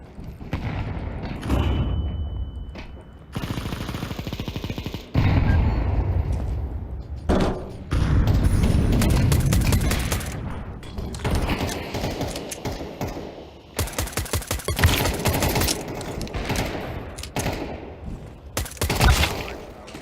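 Dense, loud bursts of gunfire and explosions from a grenade in the Helldivers video game, rapid overlapping shots and booms running almost continuously with brief gaps.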